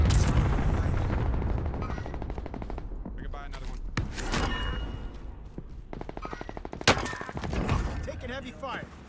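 Heavy automatic gunfire from a video game set in Caldera, with dense rapid bursts and sharp shots running throughout, loud and close, with voices talking over the fighting.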